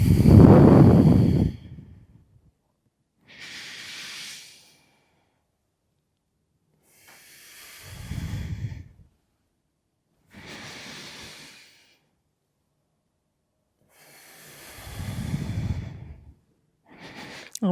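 Deep, slow breathing during a yoga stretching session, with long airy inhales and exhales repeating in an unhurried rhythm, some breaths heavier and chesty, close to the microphone with silent gaps between them.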